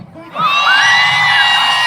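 A crowd at a temple folk-song (naadan paattu) event in Iravukad lets out a loud, sustained collective hoot, rising sharply after a brief quiet start and holding as overlapping whoops and shouts.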